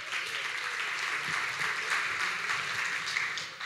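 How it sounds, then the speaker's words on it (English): Dense, steady crowd applause for the Seattle Kraken hockey team, a continuous wash of clapping at moderate volume lasting a few seconds with no talk over it. "let's give them a round of applause right now"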